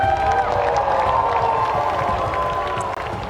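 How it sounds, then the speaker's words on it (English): An esports crowd at the ALGS mid-season playoffs, Esports World Cup 2025, cheers and applauds the winners in a dense, continuous roar of clapping and shouts that fills the arena throughout. "Round of applause,"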